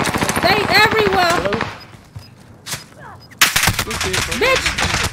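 Bursts of video game gunfire, machine-gun rattles and single sharp shots, ring out in an online shooter while players talk over much of it, with a short quieter gap in the middle.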